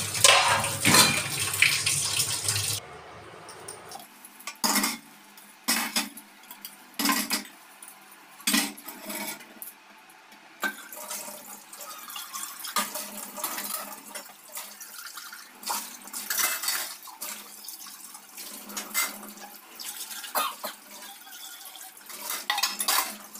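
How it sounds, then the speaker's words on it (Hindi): Dishes are washed at a kitchen sink: running tap water at first, then repeated clinks and clatters of pots, plates and cutlery, close and fairly loud, with no talk. "बर्तन धुल लेते हैं।"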